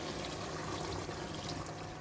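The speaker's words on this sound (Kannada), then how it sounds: "ಒಂದು 100 ml ಅಷ್ಟು ನೀರು ಹಾಕ್ಕೊಳ್ತಾ ಇದ್ದೀನಿ ನಾನು ಇವಾಗ." About 100 ml of water being poured into a pan of chicken gravy during cooking, a steady close splashing pour that runs continuously for a couple of seconds without talk.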